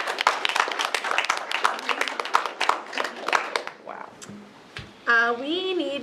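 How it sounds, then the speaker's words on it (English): Applause at a school board meeting: a few people clap briskly for several seconds, then the clapping fades out and a voice follows. "We can clap for Jerry."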